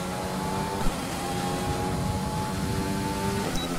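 F1 2020 race car engine held at full throttle during the Dutch Grand Prix, a sustained high whining drone with steady tonal harmonics, fairly close and unbroken, with a couple of small knocks.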